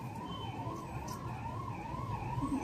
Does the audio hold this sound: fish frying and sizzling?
no